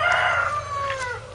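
Rooster crowing on a farm during tobacco seedling pulling, a single drawn-out crow, fairly clear against low background noise.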